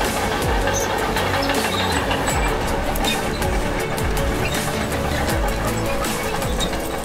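A massive American-made stump puller with two 2.4-meter steel wheels grinds out tree rootstocks, a steady loud mechanical drone with rhythmic clanking and crunching throughout.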